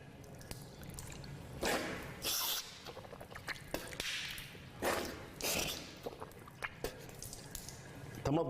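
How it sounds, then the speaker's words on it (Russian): A person rinses mouth and nose with handfuls of water: splashes and slurps in several bursts, with sniffing and swishing sounds close by, a few quiet pauses between each rinse. "я прополоскал рот и нос одной горстью воды"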